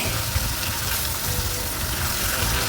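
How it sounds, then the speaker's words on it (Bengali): Rohu fish pieces fry in hot oil and are flipped to the other side, producing a loud, dense, continuous sizzle that stays close and even throughout, with no voices. "প্রতিটা মাছ খুব সুন্দর করে এক পিঠ করে ভেজে নেব"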